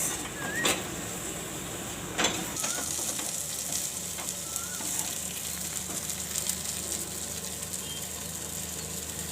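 Potato halwa is stirred in a hot pan, giving a steady low sizzle broken by occasional scraping and clicking strokes of a spoon against the pan.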